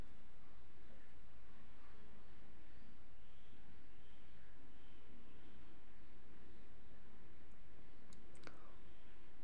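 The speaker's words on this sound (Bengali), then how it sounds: "এবার হালকা একটু ভেজে নেব আমি ফুলকপিগুলোকে" Cauliflower florets with a little turmeric powder lightly frying in oil, a steady soft sizzle and crackle throughout with a few sharper pops near the end, no talking.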